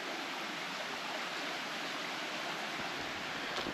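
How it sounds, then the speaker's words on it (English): A small river runs steadily beside a hiking trail near Kempt Falls in Ristigouche Sud-Est, Quebec, giving a continuous, close, broadband rush of flowing water with no voices. "You got this little river right beside you the whole time you're walking up"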